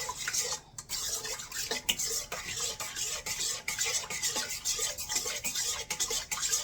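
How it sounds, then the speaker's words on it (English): A spoon stirring dinner roll dough mixture in a bowl, with quiet, close, rhythmic scraping and clinking strokes repeating steadily and no voices. "Alright, so we're going to stir that up."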